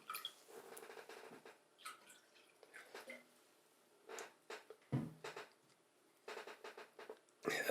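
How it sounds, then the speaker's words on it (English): Water is poured into a glass in a quiet room, heard as faint, irregular splashing and trickling bursts with short pauses between them. "I'll say sorry again for probably hearing me pouring up a little bit of water"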